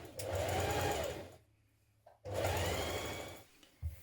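A sewing machine runs close and steady while stitching a seam on a dress, two bursts of whirring stitching separated by a brief pause, ending with a short click.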